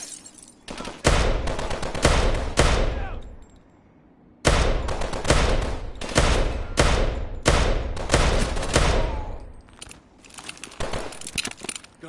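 Call of Duty: Advanced Warfare battle gunfire: loud, dense bursts of automatic fire crackle one after another, break off for a brief lull, then resume in rapid volleys before tapering toward the end.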